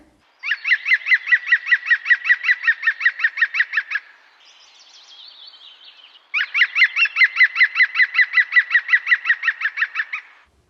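Green woodpecker giving its laughing call: two long, loud, close series of rapid, evenly spaced yelping notes separated by a quieter gap with faint fluttery sound.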